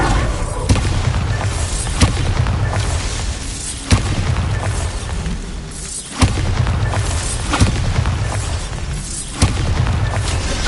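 Bombarda spells go off in Hogwarts Legacy, a series of deep booming blasts at roughly two-second intervals over a loud, dense rumble, with no talking.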